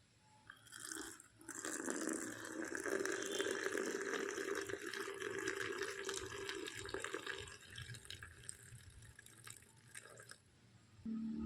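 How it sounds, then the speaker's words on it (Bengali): Hot milk pours from a height into whipped coffee cream in a cup, a steady, fairly faint liquid splash that runs for about nine seconds, then thins out and stops. "গরম দুধটাকে এবার একটু ওপর থেকে দিয়ে দেব।"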